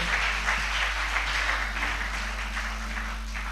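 Congregation applauding and cheering during a church service, steady dense clapping with a low sustained hum underneath, even in level throughout.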